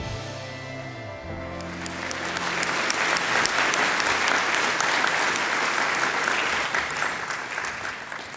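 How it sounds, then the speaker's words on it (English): Audience applause at an ethnic business awards gala presentation dinner, starting after a brief tonal passage and swelling into sustained, dense clapping from a large room that holds steady to the end. "Please keep that applause going"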